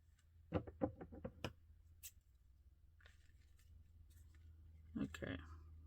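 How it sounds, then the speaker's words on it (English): Scissors cutting paper for a cooking-themed journal cover: a quick series of close, crisp snips early on, then a quiet pause and another short burst of cutting and paper rustle, with a voice speaking nearby. "Cut it about there."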